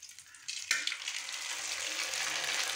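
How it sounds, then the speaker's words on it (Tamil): Homemade rice papad (arisi appalam) frying in hot oil in a kadai: a sudden burst of loud, dense sizzling that starts after a brief quiet moment and holds steady, with no talking. "இப்போ இந்த அப்பளம் எப்படி பொரிக்குங்கிறத"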